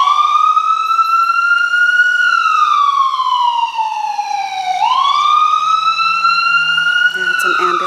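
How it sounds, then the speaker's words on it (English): An ambulance siren wails loud and close, rising and falling in long, slow sweeps. It passes near a home garden, and no other sound competes with it. "Yeah, it's an ambulance."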